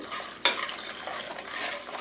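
A spoon scrapes and stirs a pot of flour mixed with boiling water on medium heat, a sharp clink followed by soft continuous swishing and bubbling.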